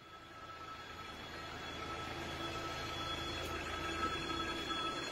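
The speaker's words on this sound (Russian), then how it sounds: "Народ стоит на переезде. Все ждут поезда." A train rumbles past a railway crossing where people stand waiting, a broad steady roar of wheels and cars that swells gradually and stays loud, with no talk.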